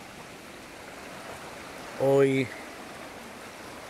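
The Cañobralejo river flows on a morning, a soft, steady wash of rushing water in the background, briefly overlaid by a short spoken word midway.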